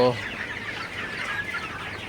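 Sonali super hybrid chickens, 56 days old, cluck and murmur softly in a steady, close flock chatter, with no other sounds standing out.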